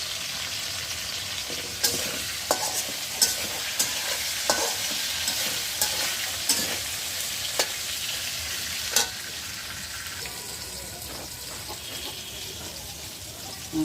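Potatoes sizzling in oil in a pan while a utensil stirs them, a steady soft frying hiss broken by sharp scraping clicks every second or so, close and fairly quiet.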